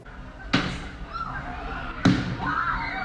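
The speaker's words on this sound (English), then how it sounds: "A firework frenzy has been taking over the streets of downtown Kitchener on recent holidays." Fireworks go off on a downtown Kitchener street during a holiday, two sharp bangs about a second and a half apart, cutting through a low background hum.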